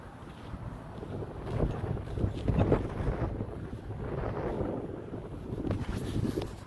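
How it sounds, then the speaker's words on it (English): Strong wind buffets the microphone outdoors near water, a steady low roar with gusty surges that swell and ebb throughout, no voices. "I know the wind is it's kicking pretty strong today."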